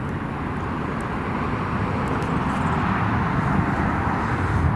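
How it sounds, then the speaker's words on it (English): A Jet2 Boeing 737-800 arriving from Alicante comes in to land at Newcastle Airport, a loud, steady, broad engine roar that builds slightly as it nears, with no voices. "next we got a Jet2 coming in from Alicante"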